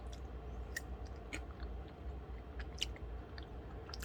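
Someone chews a crunchy chocolate granola cereal up close, soft, irregular crunches and bites over a steady low background hum, with no talking.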